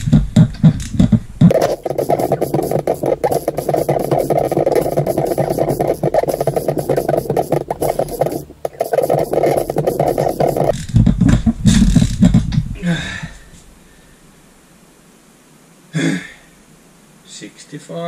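A Suzuki GN250 motorcycle engine is cranked over for a compression test, giving a loud, rhythmic churning for about ten seconds before it stops. Quieter handling noises follow, and a voice is heard.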